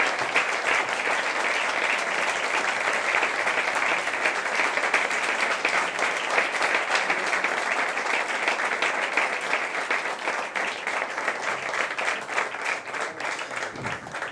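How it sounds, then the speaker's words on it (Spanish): Audience applause at a formal award event honoring a president, a steady, sustained wash of many hands clapping for the full length, moderately loud and even, fading slightly at the end. "doña Carolina Milei, para quien pido un fuerte aplauso"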